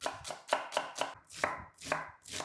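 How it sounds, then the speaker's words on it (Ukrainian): Quick knife chops dicing an onion into cubes on a cutting board, about nine crisp even strikes in a steady rhythm, close and clear with no talking. "Тепер сюди швиденько нарізаємо цибулю, також нарізаємо кубиком."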